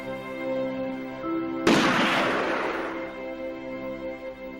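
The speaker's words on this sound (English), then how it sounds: "fucking Cowboy had to shoot fucking the reindeer" A single sharp gunshot rings out in a movie scene as a cowboy shoots a reindeer, a sudden loud crack that decays into a lingering echo over a steady tonal hum and background music.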